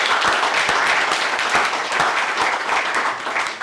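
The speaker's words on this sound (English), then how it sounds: "Can we just give them one more round of applause for that?" At a special press conference, a room of people gives a round of applause for a team's achievement, a dense, steady clatter of many hands at even loudness with no talking over it.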